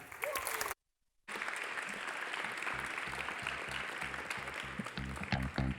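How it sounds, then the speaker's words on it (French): Audience applause at an amateur competition evening, a short burst of clapping, a sudden silent gap, then steady sustained applause from a crowd with some rhythmic thumping emerging near the end. "on applaudit, s'il vous plaît, Mme Viviane Lalande"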